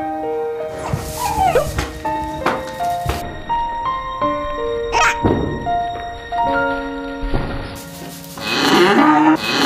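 A calf or cow on a Korean farm moos in loud, drawn-out calls, mixed with a puppy's barks and occasional thuds close by.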